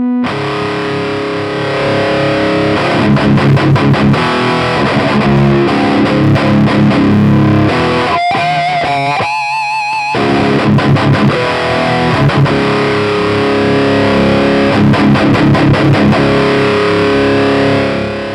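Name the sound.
loud distorted guitar through power amp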